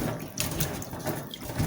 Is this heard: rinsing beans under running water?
yes